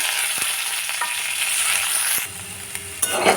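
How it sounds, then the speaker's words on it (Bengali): Vegetables, peanuts and chopped green chillies frying in a pan for sago fry, a steady close sizzle with stirring scrapes and a brief clatter near the end, with no talk. "এবার এর মধ্যে কুচি করা কাঁচা লঙ্কাগুলো দিয়ে দিলাম"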